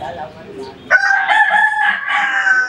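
A rooster crows loudly and close by, one long strained call after a brief quieter sound.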